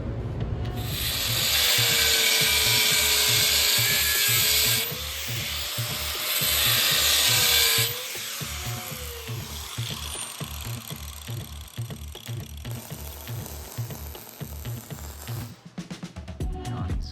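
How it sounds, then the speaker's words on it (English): An abrasive cutoff wheel scores a metal transmission crossmember for a junkyard Jeep, giving a harsh, continuous grinding whine with shifting pitch and rhythmic low pulsing, loud and close for most of the clip before tapering off near the end. "I'm gonna have to score this with the cutoff wheel because my brake's just not heavy enough to do this."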